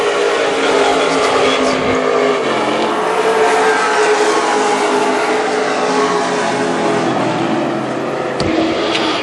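WISSOTA super stock race cars roar around a dirt speedway at Viking Speedway with a sustained, loud engine drone, while an announcer calls the race over the noise.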